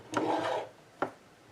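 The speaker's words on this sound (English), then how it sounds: "Using the guillotine trimmer, love doing that." Paper trimmed on a guillotine paper trimmer during card making: a half-second scraping slide of the blade through the sheet, then a short sharp click a moment later, close and fairly quiet.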